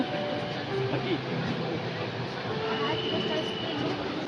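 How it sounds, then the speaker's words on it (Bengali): A train rumbles steadily along with a continuous low roar and faint rattling, voices murmuring now and then over the running noise. "আমাদের ট্রেন ছেড়ে দিয়েছে, এখন যাচ্ছি"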